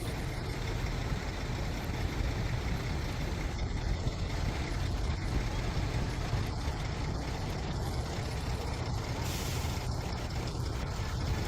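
Fuel tanker trucks sit idling in a stalled convoy on the Haivan Pass mountain road, a steady low rumble of heavy diesel engines close by, with an air-brake hiss near the end.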